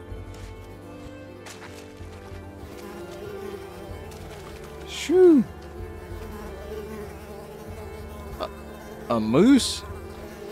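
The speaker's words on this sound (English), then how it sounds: "Man, look at all the mosquitoes." A swarm of mosquitoes in the video game Unravel hums steadily in the background, with two louder buzzing swells as insects pass close, and a brief spoken remark over the top.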